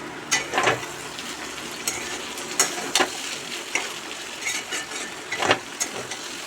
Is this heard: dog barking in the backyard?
no